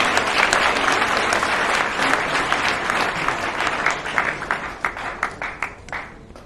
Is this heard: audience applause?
yes